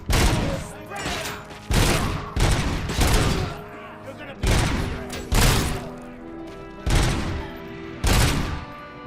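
Heavy gunfire from a firefight in the video game Robocop: Rogue City, with repeated loud bursts in a steady rhythm of roughly one every second, each a dense crackling volley that fades before the next.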